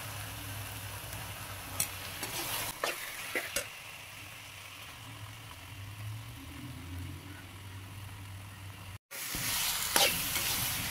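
Rabbit meat fries in a pan with ginger-garlic paste and chili powder, giving a steady low sizzle, while a few sharp clicks and scrapes mark the stirring. A louder burst of frying follows a brief cut near the end.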